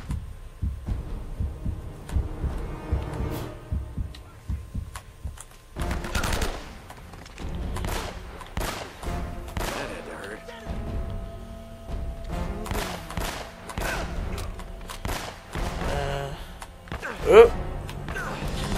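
Shots ring out during a firefight in Uncharted: Drake's Fortune, including a shotgun-wielding enemy, with bursts of gunfire and impacts throughout, one sharp loud blast near the end, mixed with game music and effects.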